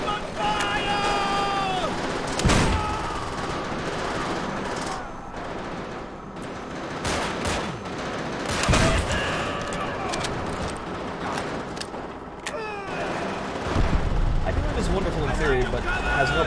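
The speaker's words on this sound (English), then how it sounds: "They're already shooting us!" Sustained gunfire and machine-gun bursts fill a night-time battle in the World at War video game, with rattling volleys and sharp cracks throughout and shouting voices under the shooting.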